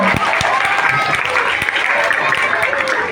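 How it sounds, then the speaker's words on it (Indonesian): A crowd claps steadily and loudly for a few seconds at a read-aloud event, dense overlapping hand claps without pause. "Tepuk tangan untuk Kak Radit."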